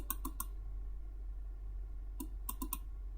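Computer keyboard typing, two short bursts of sharp clicks, three quick taps at the start and a cluster of four later, over a steady low hum with no talk.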